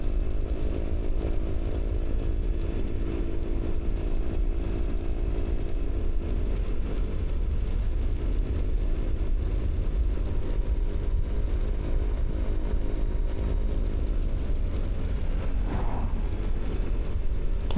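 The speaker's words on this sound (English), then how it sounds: "Plenty of cars going past in the other direction." Steady wind and engine drone from a Vespa scooter on a country hill road near Kulnura, Central Coast NSW, with passing cars blending into the continuous roar; no voices.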